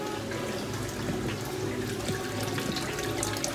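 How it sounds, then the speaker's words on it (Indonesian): An aquarium top filter with its pump mounted outside the tank runs steadily, water flowing and splashing in a constant close wash with a faint motor hum beneath. "ini udah nyala mesinnya, sekarang udah dicolok, udah running dia"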